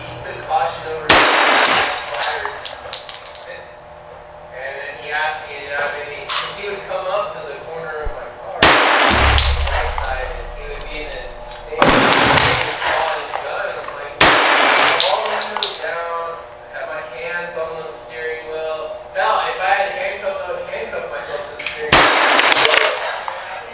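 Loud, sharp reports from a Sig Sauer 1911 pistol at a shooting range, five shots spaced a few seconds apart, each ringing briefly, with faint talk and other range noise between.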